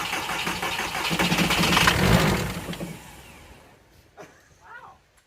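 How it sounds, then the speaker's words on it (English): A VW truck with a swapped-in 1.6 turbo diesel engine cranks and fires up. A loud, rough diesel rumble swells over about two seconds, then fades, followed by faint voices. "we are finally ready to start the truck"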